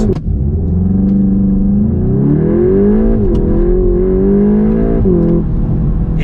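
A VW Golf GTI Clubsport 45 Edition engine pulls hard under acceleration, a loud, close, rising drone with a gear change partway through and a steady rumble underneath.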